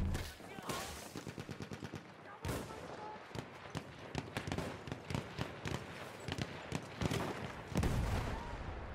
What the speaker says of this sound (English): I got four of them with one field gun shot